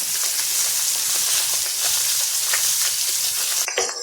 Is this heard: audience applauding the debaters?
no